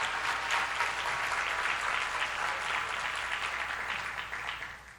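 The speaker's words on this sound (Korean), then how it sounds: "빨리 박수로 하나님께 영광을" Church congregation applauding together in a sustained, dense burst of clapping that fills the room, steady for several seconds before tapering slightly at the end.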